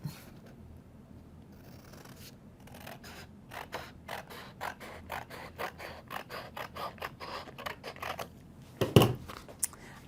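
Scissors cutting out a paper shape for a rainbow craft, a rapid run of short, evenly spaced snips after a quiet start, ending in a louder rustle and clack.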